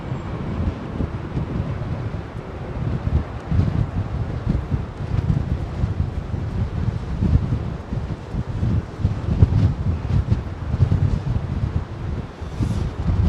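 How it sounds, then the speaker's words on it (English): Wind howls into an outdoor microphone at Heathrow Airport, a loud, unbroken rumbling roar that buffets in gusts throughout with no one talking. "there's only so much you can do when the wind is howling away"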